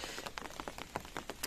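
Summer rain falling on flowers and garden surfaces outdoors, a steady patter of close raindrops hitting with irregular taps over a soft hiss, no voices.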